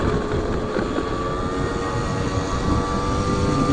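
A motorbike engine, long unserviced, runs steadily after finally starting, a loud continuous drone with a faint tonal whine held throughout, no voices.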